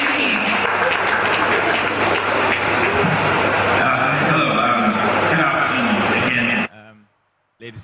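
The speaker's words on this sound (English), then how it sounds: "Please give him a round of applause." A conference audience at an African data-centre industry event applauds a chairman of the African Data Centers Association with loud, dense clapping that runs steadily for several seconds, then cuts off abruptly.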